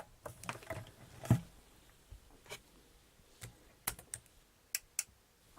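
Several sharp, isolated clicks spaced irregularly over a few seconds, faint and close, like small relays switching inside an OWON 1022i two-channel 25MHz USB oscilloscope; no talking.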